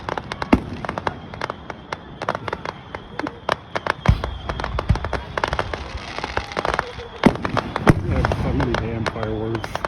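Weeping willow fireworks at a Fourth of July show in Gouverneur, New York, heard as dense bursts of sharp crackling pops and occasional deeper booms. Voices talk intermittently in the crowd.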